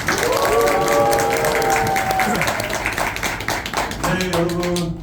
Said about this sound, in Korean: 자, 박수 함성 시작!